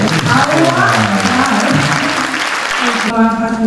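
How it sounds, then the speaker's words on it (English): An audience at an award ceremony applauds, a dense wash of clapping that fills most of the moment under and around a speaking voice, then drops off abruptly as the talking continues. "Ladies and gentlemen, a round of applause."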